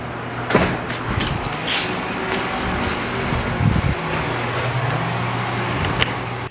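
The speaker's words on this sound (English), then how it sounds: "the door slams shut and he's locked out" A house door slams shut, giving a sharp thud partway through over a steady low hum of wind and outdoor background, with a smaller knock near the start.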